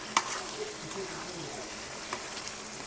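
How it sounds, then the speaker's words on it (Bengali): Chicken roast with yoghurt sautéing in a pan, a soft continuous sizzle with a couple of sharp spatula clinks, quiet and close, with faint speech in the background. "এটা এখন আরও কষাবো।"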